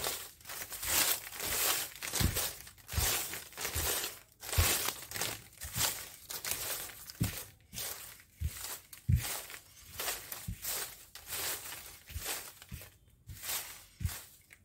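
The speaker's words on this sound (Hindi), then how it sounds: "तो दोस्तों स्लिप्स में शफल कर देता हूं।" Paper slips shuffled by hand for a random draw, a close, quiet run of irregular crinkling and rustling bursts with no talk.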